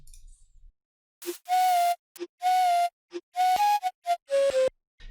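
Short breathy flute notes played dry and close, a quick run of separate phrases with pauses between, each note plain with no echo or added effect.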